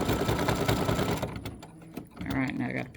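An embroidery machine stitches a satin stitch outline on a free-standing lace Halloween spider earring, its steady rapid mechanical whir filling the first second before a quieter, uneven stretch of motor noise and clicks.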